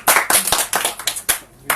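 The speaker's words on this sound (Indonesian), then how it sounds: "Tepuk tangan dulu." A few pairs of hands clap at a small live talk event, roughly eight sharp, close claps in an uneven rhythm.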